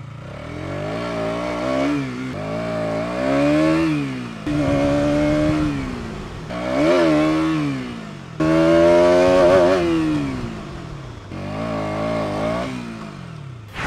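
A 2023 KTM Duke 200 fuel-injected motorcycle engine revs up and down in repeated loud, rising and falling pulls while riding, with no talk over it.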